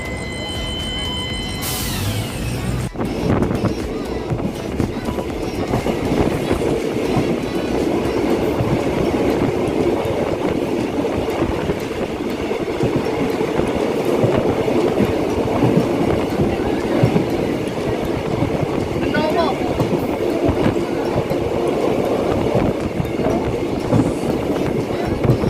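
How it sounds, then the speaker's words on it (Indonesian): A local KRD diesel passenger train pulls out of Kandangan station at night, its engine droning and wheels rumbling steadily for the whole stretch, loud and close from on board, with a brief sharp sound near the start. "Nah sudah sampai di stasiun Kandangan, bahkan nggak ada yang naik loh, dan langsung diberangkatkan dari stasiun Kandangan."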